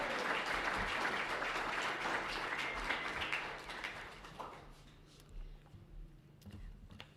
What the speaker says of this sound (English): Can we please get a round of applause for your Manitou Springs School Board candidates?